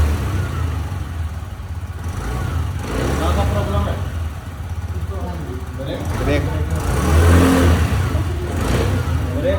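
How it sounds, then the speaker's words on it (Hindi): A TVS Jupiter 110 scooter engine, just started after an engine flush at its first service, idles and then revs up in bursts while people talk nearby. "इंजन फ्लश डाल के गाड़ी स्टार्ट किए"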